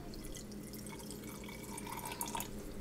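A small splash of water trickles from a tap into a peanut butter sauce for ginger beef tacos, a soft, steady dripping stream heard close up with no talking.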